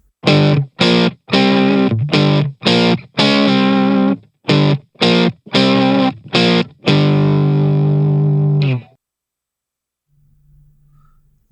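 Electric guitar through an Arena multi-effects pedal set to a JTM45 amp model plays a series of loud chopped chords with short gaps, then one long sustained chord that cuts off, followed by faint low hum.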